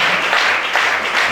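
A church congregation at a French-language worship service breaks into brief, dense applause, a short burst of many hands clapping together that fills the room.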